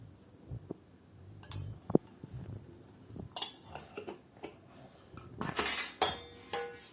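Metal utensils clink and scrape against a bowl while pizza dough ingredients are mixed at home, a series of sharp irregular taps growing louder and busier toward the end, with no talking.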